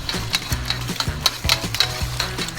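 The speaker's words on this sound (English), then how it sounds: "now we're just going to lay them in that oil and start scrambling them up" Eggs being stirred and scrambled in hot oil in a pan while making simple fried rice, with steady sizzling broken by repeated scraping strokes of a utensil in a loose rhythm, close and moderately loud, without talk.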